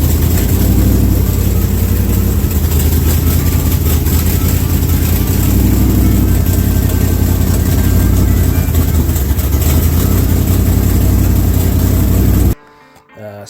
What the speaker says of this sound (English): It's a 402 cubic inch big block Chevrolet.